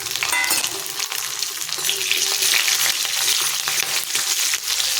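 Garlic, cloves, chopped ginger and green chillies sautéing in hot oil in a pan, a steady loud sizzle with stirring scrapes throughout and no talking.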